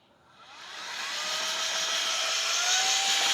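An air blower hisses steadily while clearing out a part on a 1996 Chevrolet Impala SS, the rushing air swelling up over the first second and then holding a loud, even stream with no talk.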